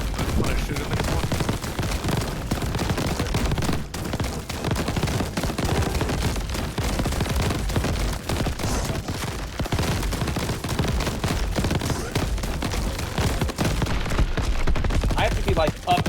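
Continuous rapid video game gunfire aimed at slugs, dense bursts of shots and impacts packed tightly together with no pauses throughout.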